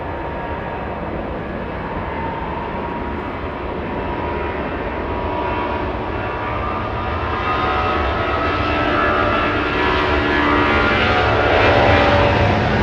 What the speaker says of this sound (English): An incredible sounding departure